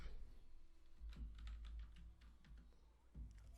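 A computer keyboard is typed on in a quick burst of close, light key clicks over a low steady room hum, with a short pause before a final few strokes.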